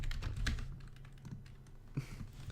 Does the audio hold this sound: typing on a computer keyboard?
yes